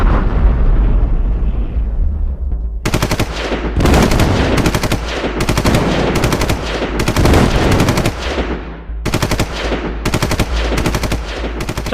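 Loud, close bursts of sustained automatic fire from a Pakistani light machine gun in a war film, rapid rattling volleys broken by short pauses over a deep rumbling battle backdrop, with no talking.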